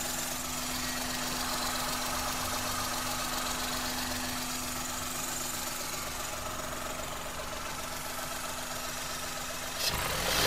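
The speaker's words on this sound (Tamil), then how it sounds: "இப்போ வண்டியோட இன்ஜின் நாய்ஸ் நான் உங்களுக்கு மைக்கை வச்சு பக்கத்தில் வச்சு காட்டுறேன்" Close-miked idle of a 2014 Maruti Alto 800 small petrol car engine, a steady low hum and dense mechanical chatter holding constant throughout, ending with a brief knock near the close.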